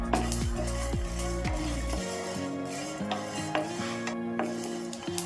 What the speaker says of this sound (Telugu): కొంచెం ధనియాలు కూడా వేసుకుందాం జీలకర్ర చక్క లవంగం వేసుకొని ఒకసారి మళ్ళీ ఫ్రై చేసుకోండి